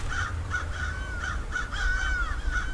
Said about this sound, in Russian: Ворон такой.